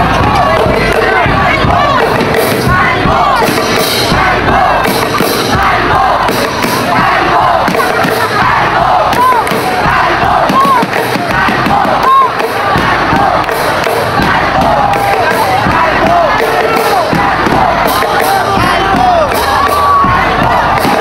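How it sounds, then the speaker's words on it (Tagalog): Binangonan fans in a packed gym at a basketball finals game shout and chant in a loud, sustained crowd roar with scattered cheers and yells throughout. "pakinggan muna natin ang sinisigaw ng mga manonood ng Binangonan"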